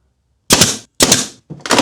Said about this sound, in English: I'm going to try to hold this so that you guys can see what I'm doing while I drive the nail